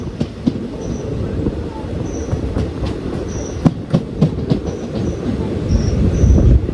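The Ernad Express passenger train rolls into Pazhayangadi railway station with a steady rumble, rhythmic clacks of wheels over rail joints, and faint high squeals, growing louder toward the end.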